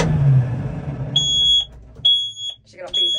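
Alarm beeps from a tractor running a 125 with a new TMR mixer on a farm: a low engine rumble fades, then three steady high-pitched electronic tones sound at intervals, loud and close, with a faint voice between them.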